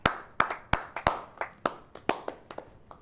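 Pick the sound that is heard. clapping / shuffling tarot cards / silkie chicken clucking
clapping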